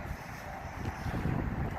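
Gusty wind buffets the microphone with low, rumbling roars that swell toward the end, close and loud, with no voices.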